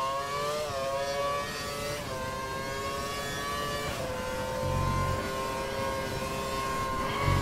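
A Formula 1 car engine in the racing game F1 2012, qualifying at Malaysia in the rain, drones steadily at high revs, pitch dipping briefly at gear shifts, loud and continuous with no talking.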